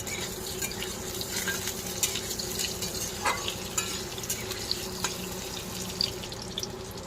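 Spices with onion and potato fry in a pan with a steady close sizzle and repeated scraping stirs and light clinks, with no talking.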